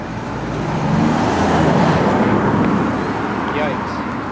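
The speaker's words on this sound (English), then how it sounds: "I'm a little scared about how close the cars are." Cars rushing past on a road close beside a canal on Ireland's west coast in Mayo, a broad roaring swell that builds and fades as a vehicle goes by, loud and near.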